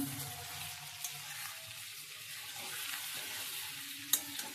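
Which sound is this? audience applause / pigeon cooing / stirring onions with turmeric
stirring onions with turmeric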